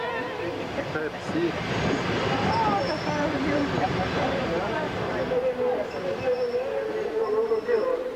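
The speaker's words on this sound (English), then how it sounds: "the train approaches Kiev" A passenger train approaching Kiev rumbles steadily with a low, continuous rolling drone, while voices sound over it throughout.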